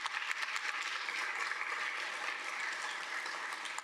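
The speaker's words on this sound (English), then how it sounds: "So can we give Ms. Thurlow a round of applause?" An audience at a talk with Nobel laureate Setsuko Thurlow applauds, dense even clapping sustained for a few seconds at moderate level with no speech over it.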